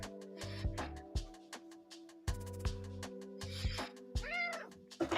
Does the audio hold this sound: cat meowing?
yes